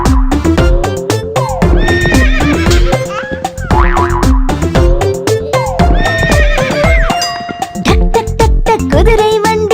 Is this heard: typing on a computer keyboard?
no